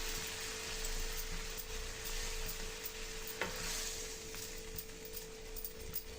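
A spoon stirs grated carrot in a pan with full-fat milk and cream for carrot halwa, a soft, steady scraping and sizzling texture at low level, with no voices.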